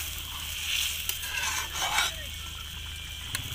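Paneer and cashews being stirred into a simmering gravy in a pan, with soft scraping and stirring strokes over a steady low sizzle and a few light clinks.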